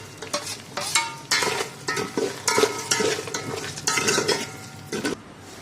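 Onions for paneer biryani sizzle and fry in a pan as a spoon stirs them, with repeated scraping strokes over a constant crackle, close and fairly loud, with no voices.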